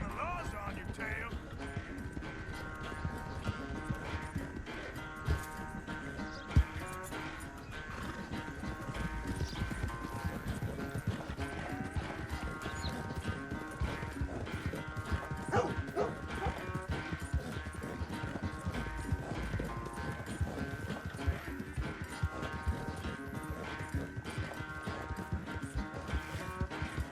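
Horse hoofbeats while riding in Red Dead Redemption 2, a steady galloping clip-clop that runs throughout beneath game music, with occasional voices talking.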